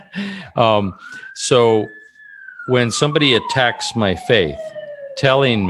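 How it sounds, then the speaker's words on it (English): An emergency vehicle siren wails under someone speaking in the foreground, its rising and falling tone running steadily behind the talk. "I don't know if you can hear the sirens in the background here"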